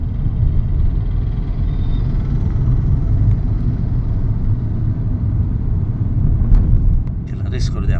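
A government vehicle's engine roars loudly and steadily nearby, with a dense low rumble that holds throughout.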